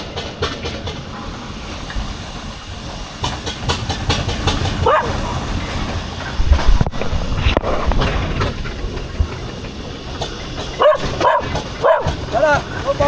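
A dog barks a few times amid loud, rumbling outdoor noise from passing steam engines and a road roller at a road run yard in Omagh, with people talking nearby.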